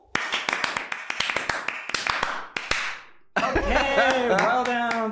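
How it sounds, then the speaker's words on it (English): A group performs Ipponjime, the Japanese ceremonial hand clap: a quick series of sharp, crisp claps in a rhythmic pattern, followed by a loud outburst of cheering voices. "So now let's wrap things up with Ipponjime. You remember? Ipponjime, Okay, yes. please be ready to clap your hands."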